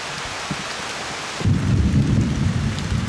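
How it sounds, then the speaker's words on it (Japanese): Heavy tropical rain pours down in a Panama jungle during the rainy season, a dense, loud steady hiss of large drops, and a deep rumble of thunder swells in partway through and carries on under the downpour. "陽を遮る林間も大粒の雨には何の効果もありません"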